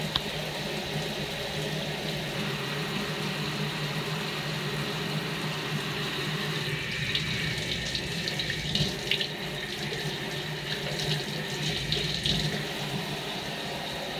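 Water runs steadily from a tap into a sink while dyed clear PETG plastic is rinsed, a continuous close splashing hiss with small shifts in flow and no talk.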